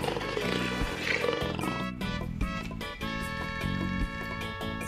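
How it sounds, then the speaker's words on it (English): A recorded big-cat roar plays as a sound effect for a toy cheetah, loud and close, with layered roaring growls over a looping musical backing. "Cheetah."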